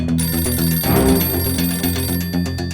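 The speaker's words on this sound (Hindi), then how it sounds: "ये फोन बिना कभी भी आ जाता है" A telephone bell rings steadily and loudly with a bright, repeating trill, along with a dense tonal background and no voices, in a TV show setting.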